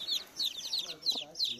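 A hen clucks in a series of short, close calls that come in quick, uneven bursts, with faint background voices.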